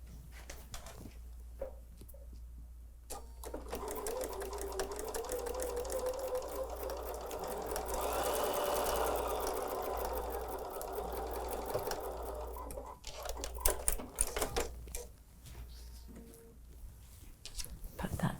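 A sewing machine stitching a quarter-inch seam on a quilt block, running steadily for about ten seconds as a continuous whirring hum, with a voice talking before and after.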